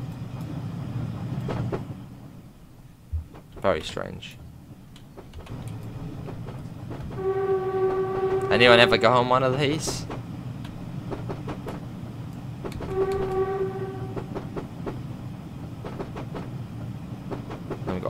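Woodhead Electric train running in Train Simulator, a low, steady rumble of wheels and motors with several horn blasts and a brief squeal. Someone talks over it at times.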